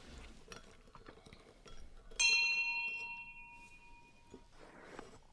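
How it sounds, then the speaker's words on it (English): A small church service bell is struck once, giving a bright, clear ring that decays slowly over about two seconds above a quiet room background. "This is the small service bell."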